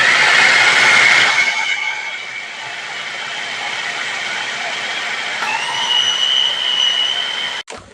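A food processor grinds a falafel mixture with spices, a loud whirring burst at first that settles into a steady motor hum before cutting off sharply near the end.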